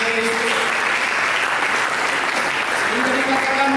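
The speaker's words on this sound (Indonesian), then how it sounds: "Berikan tepuk tangan bagi Yesus." Loud, dense applause from a church congregation clapping for Jesus fills the room, steady and sustained throughout with a faint background hum.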